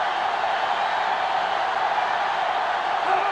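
A stadium crowd roars steadily and loudly through a college football matchup in NCAA Football 2005, Florida against Florida State, as a dense, unbroken wash of cheering with no clear pauses.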